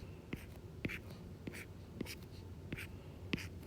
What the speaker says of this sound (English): just draw an octagon